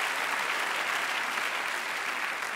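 Audience applause at the Swiss Comedy Awards 2022 ceremony, a dense steady clapping from a large crowd that holds at the same level throughout, with no voices above it.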